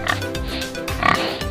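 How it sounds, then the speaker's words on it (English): A pig oinking in a children's farm animal lesson, a few short grunting snorts over light background music, close and fairly loud. "Pig."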